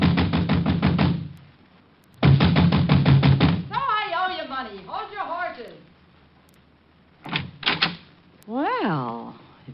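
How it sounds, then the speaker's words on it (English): Rapid hard knocking on a village door in a 1949 Richard Diamond, Private Detective radio drama, two loud bursts of quick drummer-like raps, followed by talking voices and a brief second knock. "I was soon banging on a door there like a drummer playing Bob."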